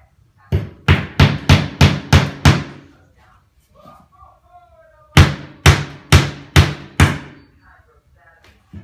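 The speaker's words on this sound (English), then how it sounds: "Then we're going to nail on an angle so that our floor doesn't pop up" A hammer drives nails at an angle into a plywood floor in two close, loud runs of about six evenly spaced blows each, separated by a quiet gap with faint background sound.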